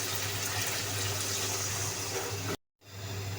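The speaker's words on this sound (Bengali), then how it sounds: "এখন দিয়ে দিব ঝোলের জন্য পানি।" Water is poured into a pan of sautéed potatoes and onions to make gravy for a rui fish curry with potatoes. It is a steady, loud rushing pour that stops abruptly, then a softer trickle follows.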